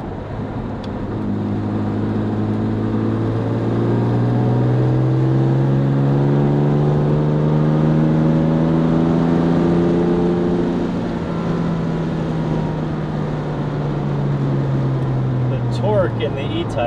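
Jaguar E-Type coupe engine rumbling steadily at about 2,500 RPM while cruising on backroads, a continuous low drone that swells slightly and eases off, with someone talking over it throughout.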